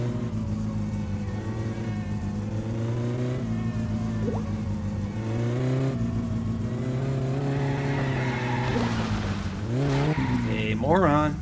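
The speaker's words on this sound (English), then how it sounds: "Now, time for a little impromptu street racing." Car engine in My Summer Car revving through a steady, droning pitch during an impromptu street race, rising in sharp whining climbs near the end, with tire noise and a voice over the continuous engine.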